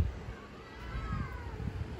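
A stray cat meows inside an empty apartment, a faint call over a steady room hum with little else around it.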